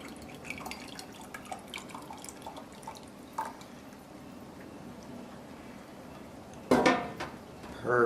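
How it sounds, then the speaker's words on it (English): Drippings from competition-style pork ribs are collected, with soft liquid drips and small utensil clinks close by, ending in a louder scrape and clatter of a pan. "The next step is to collect the drippings."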